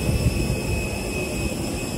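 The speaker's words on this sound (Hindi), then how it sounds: "किसी का प्राइवेट जेट है।" A private jet's engine at a newly built airport, a steady whining roar with a high tonal whine held evenly throughout, loud and close.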